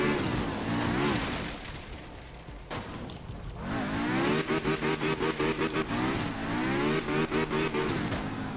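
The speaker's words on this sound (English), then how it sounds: "So it's a car with a moped engine" A rally car fitted with a moped engine drives on a wet Japanese stage in the video game art of rally, its small engine buzzing and revving steadily with rhythmic gear-like pulses, loud and alone.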